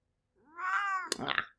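A 19-year-old cat gives a single drawn-out meow, close and clear, rising then breaking into a rougher second part before fading out.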